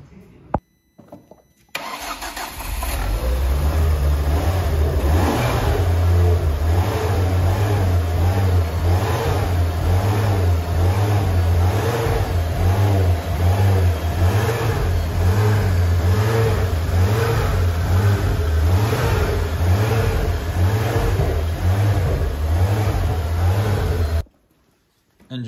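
A forged 2.5-litre five-cylinder Ford Focus ST Mk2 engine with hybrid turbo fires up and revs hard on a dyno for a long stretch, loud and close, with a rising and falling throaty drone before it cuts off.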